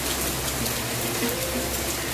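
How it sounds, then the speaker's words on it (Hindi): Heavy overnight monsoon rain falling on a home, a continuous dense hiss of drops on surfaces with a low rumbling undertone, steady and fairly loud with no voices. "ऐसा बारिश"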